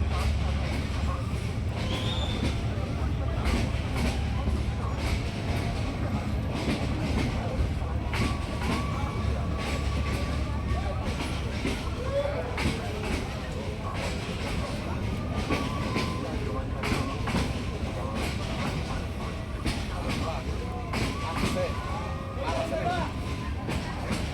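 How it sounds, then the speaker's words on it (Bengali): The Haor Express train passes along a line at Gouripur railway junction at night. A continuous low rumble and rolling wheel clatter carry on at a moderate distance beneath people talking nearby. "ওই যে হাওড় এক্সপ্রেস ট্রেন ওই লাইনে চলে যাচ্ছে"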